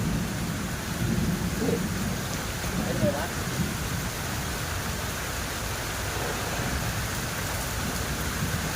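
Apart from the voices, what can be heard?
heavy rain and thunder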